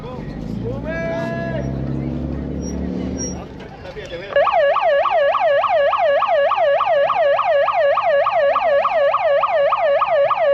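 A ship's horn or siren sounded by the captain while nearing Tevas port on an Amazon river voyage, a loud, steady warbling tone repeating rhythmically and close by, following a stretch of talk.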